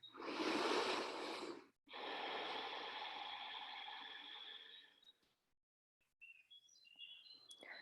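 Deep, slow breaths during a gentle prenatal yoga twist: a long airy inhale, a brief pause, then a longer exhale. A few faint bird chirps follow in a quiet room.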